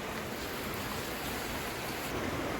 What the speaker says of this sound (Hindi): बारिश रुकने का नाम नहीं ले रही, वो देखो।